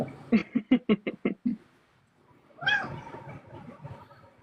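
A house cat meows in a rapid series of about seven short, close calls, then after a pause lets out one longer, drawn-out meow that trails off.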